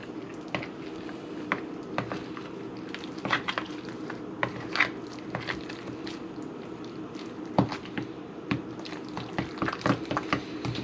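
A garlic bread mixture with Colby Jack cheese is stirred in a pan, giving soft, irregular wet squishes and light clicks at close range with no talking.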